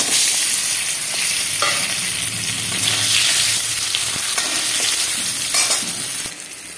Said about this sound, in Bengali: এবার ভেজে নেবো আলু,